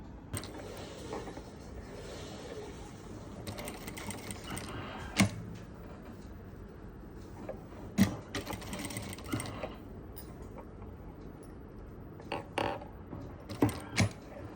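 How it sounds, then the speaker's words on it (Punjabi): Sewing machine running loose basting stitches along a suit neckline, a fairly quiet steady mechanical whir with several sharp clicks and knocks scattered through. "ਇਹਨੂੰ ਕੱਚੀ ਸਲਾਈ ਕਰ ਲਈ ਇਹ ਕੱਚੀ ਸਲਾਈ ਕਰਨੀ ਆ ਬੋਟੇ ਬਖੀਏ ਤੇ"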